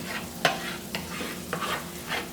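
Asparagus and mushrooms stir-fry in a pan, a soft steady sizzle broken by several light scraping stirs at an even pace, heard up close and fairly quiet.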